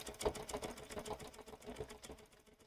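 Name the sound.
Bernina sewing machine stitching with tailor tack foot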